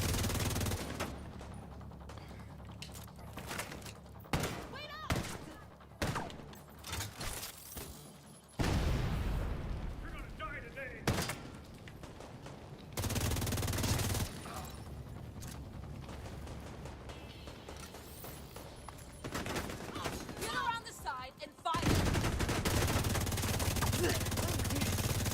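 In The Division 2, gunfire comes in repeated bursts and single shots broken by quieter gaps, loud and close, with game sounds between volleys.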